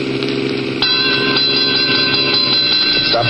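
A train passes a sleepy rural junction just across the Oklahoma border, rendered as a radio-drama sound effect: a steady, loud rumble of rolling wagons with high ringing tones, holding throughout after a jump in level near the start.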